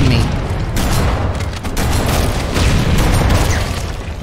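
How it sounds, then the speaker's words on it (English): Explosions in the video game Halo: Combat Evolved, a loud, continuous barrage of overlapping booms and bursts like gunfire, with no break for the whole stretch. "that's what all the explosions are going on for"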